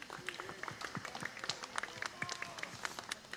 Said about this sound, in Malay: Berikan satu tepukan.